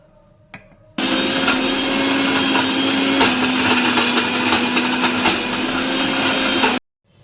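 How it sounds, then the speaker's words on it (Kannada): A kitchen mixer grinder grinds cooked chana dal filling for holige with no water added. It runs as one loud, steady motor whine for about six seconds and then cuts off sharply. A few soft clicks come before it starts. "ಈಗ ನಾನು ಮಿಕ್ಸಿಗೆ ಹಾಕ್ತೀನಿ ನೋಡ್ರಿ"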